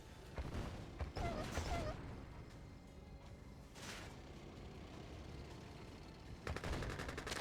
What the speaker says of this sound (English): Perfect sentry gun from Mian.